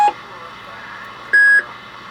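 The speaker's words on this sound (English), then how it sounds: "Now here's some of the beeps in here that are the most common beeps." An SD card noise toy box gives two short electronic tone beeps, the first at the very start and the second a little over a second later.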